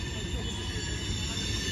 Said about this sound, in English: great audio with the train.